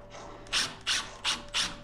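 Two-inch screws driven into a wooden bed runner, four short whirring bursts of a driver in a steady rhythm, close and fairly quiet, with no talking.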